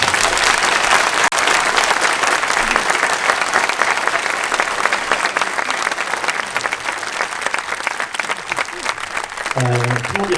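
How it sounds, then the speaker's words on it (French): A congregation applauds loudly and steadily at an end-of-year Catholic mass, sustaining dense clapping for about ten seconds, and a voice starts speaking as it ends. "Et je propose qu'on t'applaudisse bien fort."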